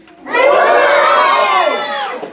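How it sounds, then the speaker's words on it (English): A group of children at a magic show shouts one loud, sustained whoop together, rising sharply and fading after about two seconds. "I want you all to yell whoop really loud"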